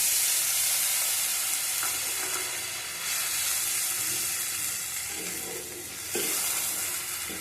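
Sizzling tomato masala for rui fish curry as water goes in, a loud steady hissing fry that dips and surges with stirring scrapes, close and continuous, no speech.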